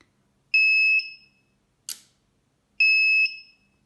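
Two long, piercing electronic beeps from a Chinese battery charger, about two seconds apart, with a brief click between them, in an otherwise silent room.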